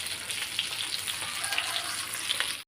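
Green fish fry sizzles steadily on a hot tawa, a dense, close crackle of frying oil with small pops running throughout before stopping abruptly.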